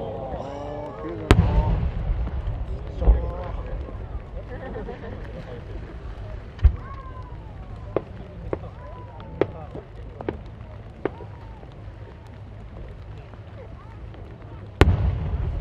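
Fireworks at the 2022 Omagari national fireworks competition in Japan burst with sharp, distant booms and cracks at irregular intervals over a continuous crowd murmur, with one loud blast near the end.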